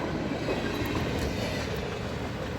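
Freight train led by a Dash 9 locomotive passing close by, a loud continuous rolling rumble of railcars with faint clickety-clack from the wheels.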